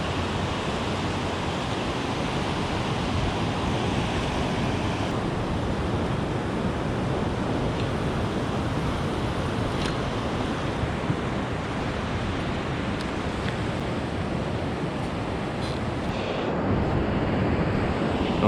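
Ocean surf at Ormond Beach washes in a steady, broad roar that barely changes, close and fairly loud, with wind over the microphone and no talk.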